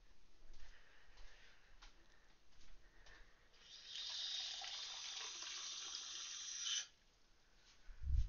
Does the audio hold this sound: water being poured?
yes